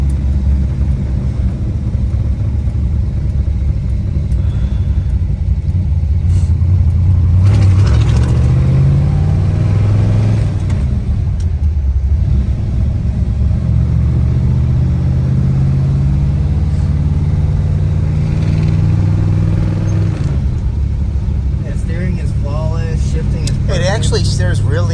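A 1962 Chevrolet Biscayne with a 409 engine and four-speed manual drives down the road, its steady, loud engine rumble and road noise continuous throughout, with a brief rise in revs, while people talk over it.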